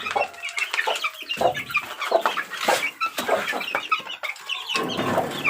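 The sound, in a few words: chicks (baby stags) chirping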